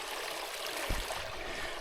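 A stream flows beside a trail on the Olympic Peninsula in Washington State, a soft steady wash of water heard faintly, with a brief low thump partway through and no voices.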